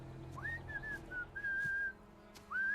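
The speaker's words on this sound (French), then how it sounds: "Il siffle le générique." A cartoon character from the animated series Wakfu whistles the theme song: a clear, bright melodic line of sustained and sliding notes in a few phrases, fairly close and alone, with a brief gap before the last phrase.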